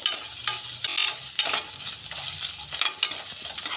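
Crushed ginger and chillies fry in a pan, a crackling sizzle broken by repeated scraping strokes of a spoon stirring close by.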